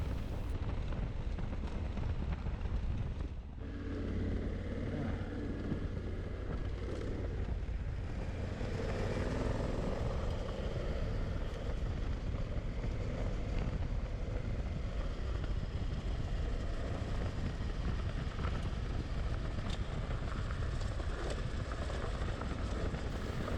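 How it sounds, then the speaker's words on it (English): Honda Africa Twin motorcycle on tubeless tyres ridden at a smooth, moderate throttle along a dusty dirt road, engine drone and wind rush steady and loud throughout, with a brief dip near the start. "The road's very dusty, so I'm making sure I keep a smooth throttle and don't go too fast, so that Wendy doesn't get inundated."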